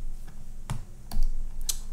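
Keys clatter on a computer keyboard at a desk during a screen recording session, a few quick separate taps and clicks spread over two seconds, close to the microphone.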